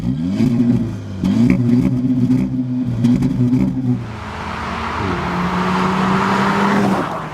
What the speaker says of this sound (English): As nice as this turbocharged 4-pot sounds, and it has quite a nice burble to it